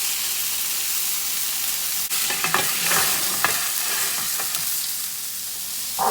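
Chicken steaks fry in a pan just after being flipped, giving a steady close hiss with a sharp clatter and a cluster of louder sizzling crackles midway.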